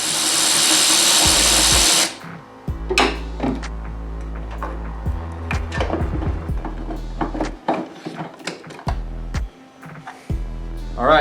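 A small impact gun on a 2021 Mustang pulls the bolts holding a Roush Performance air intake, with a loud steady whir at first, then short buzzing bursts, clicks and clatter close by.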